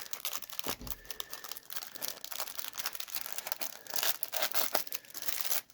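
A 1993 Fleer baseball card rack pack is ripped open up close, with steady crinkling and tearing of the foil wrapper and no talking.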